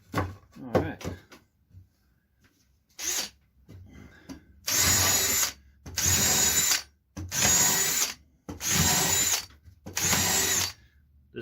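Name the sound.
drilling pilot holes in soft cedar wood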